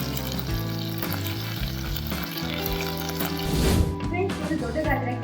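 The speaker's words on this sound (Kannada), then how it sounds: "ನಂತರ ಇದಕ್ಕೆ 3 ಚಮಚದಷ್ಟು ಬೆಣ್ಣೆಯನ್ನ ಸೇರಿಸ್ಕೊತಾ ಇದ್ದೀನಿ." Butter and oil heating in a pan for pav bhaji give a steady, close sizzle that runs throughout beneath background music, briefly louder near the end.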